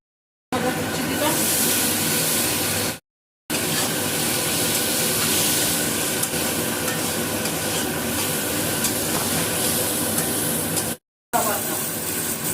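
Chopped ginger goes into a pan with turmeric, setting off a loud, continuous frying hiss and stirring scrape, broken by brief cuts of silence, with voices talking over it at times.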